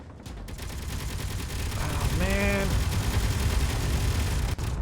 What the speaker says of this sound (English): Oh, that is a lot of missiles.